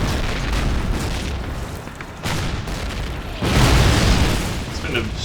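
Artillery shells exploding in a Call of Duty World War II battle at Foy, heavy booming blasts rolling under continuous game noise, with a louder, closer burst toward the end.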